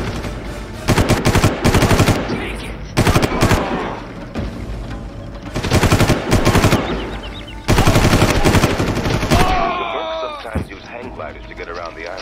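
Bursts of machine-gun fire in the Far Cry island shooter, several loud rapid volleys separated by short gaps, with battle noise and a voice heard between them.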